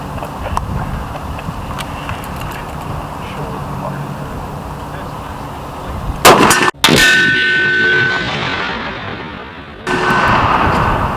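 A .50 BMG rifle shot smacks an Action Target E-50 steel silhouette outdoors, leaving a sharp loud metallic clang with a ringing tail after a stretch of steady background noise.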